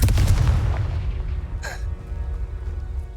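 A Confringo blasting spell goes off in Hogwarts Legacy as a loud, deep boom right at the start that rolls away and fades, followed by a short bright whoosh and a low rumbling tail.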